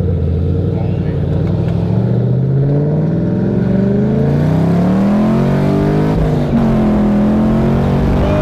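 A 2014 Camaro SS V8 with a Texas Speed stage 2 cam revving under acceleration, a loud, rising engine roar with a brief dip at a shift, heard from inside with people talking over it.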